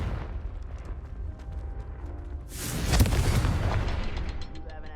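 A Confringo blasting spell in Hogwarts Legacy detonates with a loud booming explosion that bursts out midway and rumbles on amid low-frequency crashes and debris.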